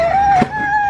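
A toy rooster in a Sam's Club store gives a short electronic crow, a bright, steady, nasal tone lasting about a second. The sound is close and loud.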